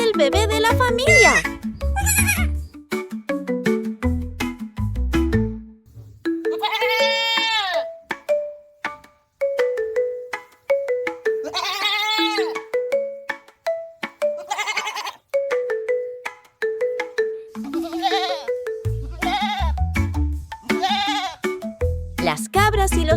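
Goats bleat repeatedly in a kids' animal-sounds piece about the goat family of billy, nanny and kid, with many loud, wavering cries spread through the clip among short pauses.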